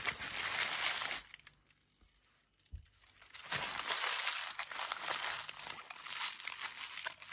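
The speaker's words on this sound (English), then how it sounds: "we're going to grab the foil that's in your box and I want you to screw it up" Aluminium foil crumpled by hand into a ball, a close, loud, dense crinkling that runs for a few seconds, eases briefly in the middle, then crackles on again.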